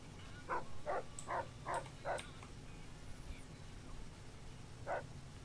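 Dogmeat, the dog companion in the Fallout video game, barks in a quick run of five sharp woofs followed by a single bark after a pause, moderately close over a low ambient game hum.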